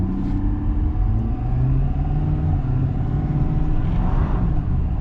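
A 2022 Ford 6.7 Powerstroke diesel pickup with 35-inch tires spins its wheels on a wet road, making a steady, loud, close rumbling engine drone with a low growl held throughout and no talking.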